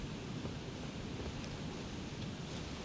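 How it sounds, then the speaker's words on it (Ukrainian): Steady broadband rush of a waterfall in the Elden Ring video game, a continuous even roar of falling water with no gaps, heard alone at moderate level. "О, який гарний водоспад."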